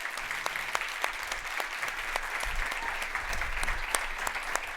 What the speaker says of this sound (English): So please welcome Mr. Kevin Lyman to the stage